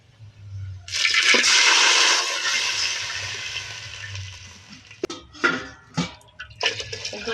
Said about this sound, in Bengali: আমি আবার বলে দিচ্ছি এটা দু বাটি জল দেবেন বেশিও নাই কমও নাই